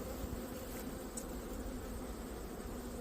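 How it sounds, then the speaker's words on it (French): Honey bees drawing out wax in a hive hum in a soft, continuous drone, with faint individual buzzes rising briefly above the steady murmur. "les abeilles sont en train de travailler pour étirer la cire"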